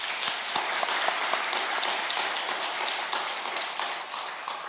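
A church congregation claps together in dense, sustained applause that holds at an even level, with a few sharper claps standing out from the steady wash.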